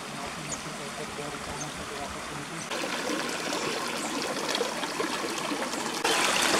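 Sulfur-contaminated stream water, cloudy and whitish, flows at Kawah Ratu crater on Mount Salak, a steady nearby rush that swells louder partway through and again near the end.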